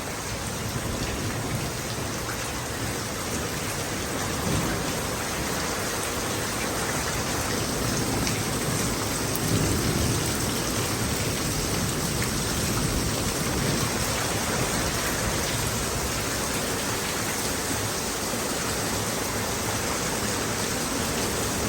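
Heavy rain pours in Marrakech in a dense, steady roar that fills the whole stretch, with no distinct thunder clap standing out over the constant downpour.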